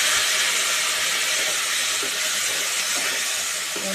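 Spice paste for a prawn and taro curry hisses and sizzles steadily in a hot pan right after water is poured in, a loud, continuous close-up hiss with no voices.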